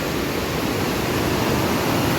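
Rainwater flowing past a temple after a downpour, a steady, close hiss of running water that stays even throughout with no other sounds.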